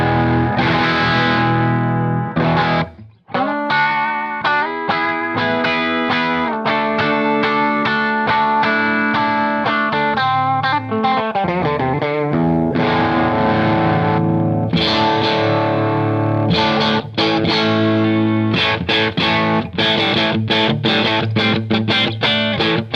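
An electric guitar plays through a Mesa Boogie Nomad 55 amp head, giving a full, driven tone with chords and single-note runs. It plays continuously and loud, with only one brief pause and no talking.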